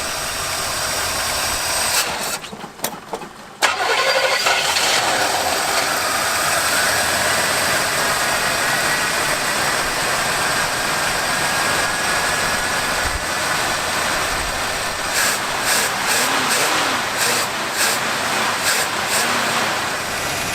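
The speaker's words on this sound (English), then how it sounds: "I'm gonna get in and pump it this time. See if it just starts." An old square-body Chevy pickup engine with a GM two-barrel carburetor cranks and catches, then settles into a loud, rough, rattling idle that runs steadily with a clattering mechanical knock.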